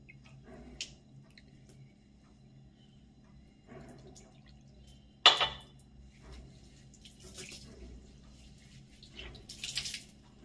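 Homemade rinse water poured over freshly washed hair: faint, intermittent splashes and drips, with one sharper splash midway and a few short trickling bursts, close but quiet.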